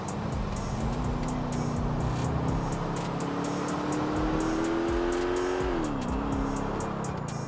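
Car engines drone and rise steadily through Grand Theft Auto IV street traffic. Steady revving runs throughout, with a pitch climb and drop near the end and faint ticking clicks on top.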